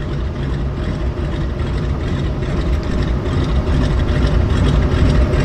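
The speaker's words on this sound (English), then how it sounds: "I love the sound of a round engine." A floatplane's radial engine at a float base rumbles with a deep, steady throb, loud and fairly close, holding an even idle-like drone with a slight swell toward the end and no voices.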